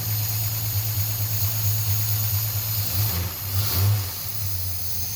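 Slant Six engine fitted with a throttle body, idling then given a couple of brief blips of throttle, a low steady rumble with short revs rising and settling under a constant hiss.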